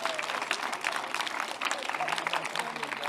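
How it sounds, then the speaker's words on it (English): Big round of applause from workshop participants at the end of a review in an agile games session, brisk clapping from a small group with a few murmuring voices underneath. "Big applause"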